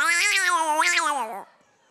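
A human voice imitates a cat with one long, drawn-out meow that rises and wavers before dropping off sharply, close and clear, followed by near silence.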